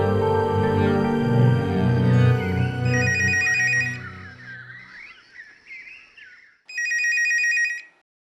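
A household telephone rings in repeated loud electronic bursts. Separate short rings follow after a pause, over a fading background music bed, with no one speaking.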